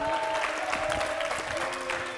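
Applause from a small group clapping steadily and fairly close, with faint voices and a tonal hum underneath.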